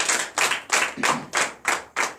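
A church congregation at a night deliverance prayer service in Benin claps in unison acclamation, about seven loud, close bursts of rhythmic group clapping.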